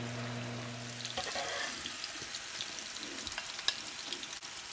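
Mushrooms frying in butter in a pan for Salisbury steak, a steady close sizzle with faint stirring clatter and no voices.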